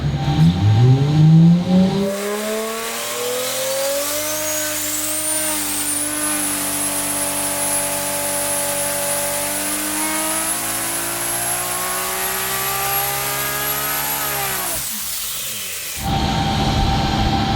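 A 1700HP Dart-block 2JZ-powered Toyota Supra revs hard on a dyno during a high-boost pull near 40 psi, the loud engine note climbing steadily in pitch, holding a sustained high-rpm scream, then cutting off abruptly.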